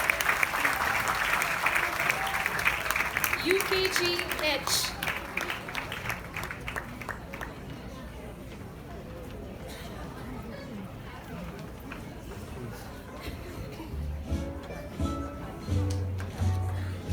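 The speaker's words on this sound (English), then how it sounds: "Please welcome with a huge round of applause" A large audience applauds a graduating kindergarten (UKG) class as the children come on stage holding their certificates, with strong clapping early that fades into crowd chatter and an announcer speaking.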